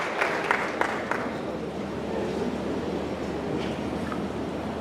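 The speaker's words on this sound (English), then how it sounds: "A round of applause for motherhood." An audience at a conference opening session breaks into sustained applause, a dense, even wash of clapping from a large crowd across a hall.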